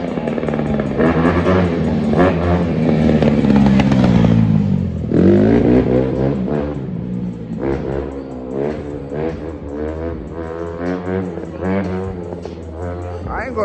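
A Honda CRF150R dirt bike engine revs in repeated sharp blips that rise and fall over a running idle, loud and close, with voices talking over it.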